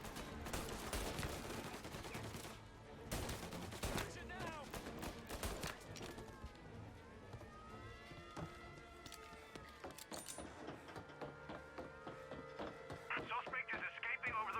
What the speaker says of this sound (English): Gunfire and an explosion reported at the Corleone Hotel.